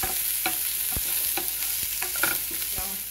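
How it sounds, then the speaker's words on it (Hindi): Onions frying in hot oil with cumin in a pan give a steady close sizzle, broken by the scrape and clatter of a spoon stirring every few moments, with no talk. "हम इसमें डालेंगे जीरा, फिर डालेंगे प्याज, प्याज को हल्का ब्राउन होने तक पकाएंगे।"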